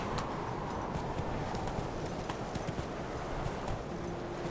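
Horse hooves clip-clopping at a steady pace in The Witcher 3, a continuous rhythmic patter of footfalls heard close and fairly quiet with no talk.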